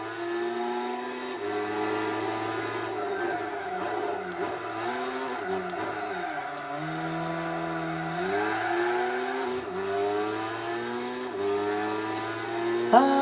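Race car engines roar through the Tsukuba 9-hour endurance race in Gran Turismo 4, a steady, close droning whine whose pitch climbs and falls with each gear change and corner, running continuously without pause.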